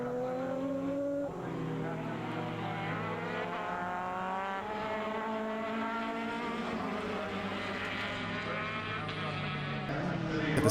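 Formula BOSS race cars braking into turn 1 at the Mondello circuit, engines loud with sweeping, falling pitch as they downshift into the corner, a commentator talking over the racket throughout.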